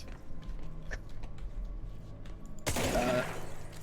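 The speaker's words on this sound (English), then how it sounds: "Yes, just keep shooting." Gunfire in the video game Control, a sudden loud burst of shots and debris near the end after a stretch of quieter background game noise, with a low steady hum throughout.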